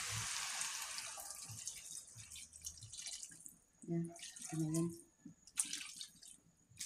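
Water poured into a pan holding fried tilapia for escabeche, a splashing, hissing pour with drips that fades partway through, alongside a person talking nearby.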